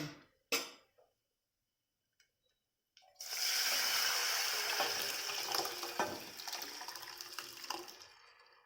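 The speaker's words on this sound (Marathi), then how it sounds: "सगळे डाळ हे पाणी ह्याच्यात आता ओतते" A steady wet pour of cooked lentils with water into a pan begins after a few seconds of near silence and a couple of clanks, continuing several seconds.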